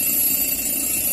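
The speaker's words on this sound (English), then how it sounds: "you should hear a bell alarm or whistle, verifying that the low air alarm is working properly" An SCBA low-air alarm sounds, a steady high-pitched tone, continuous, loud and close, with a constant hiss beneath it.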